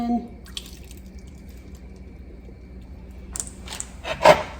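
Evaporated milk pours into a pot for caramel apple fudge, starting with faint drips before a louder splashing stream near the end, close and alone.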